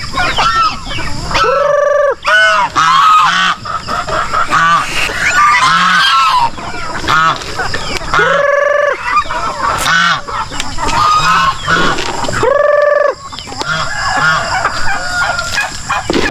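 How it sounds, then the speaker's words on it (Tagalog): Free-range chickens and geese on a farm make loud, crowded calls close by: honking, clucking and a rooster crowing overlap in continuous bursts, with a voice briefly heard beneath. "manok natin iba nandito. Pero may ibang manok tayo."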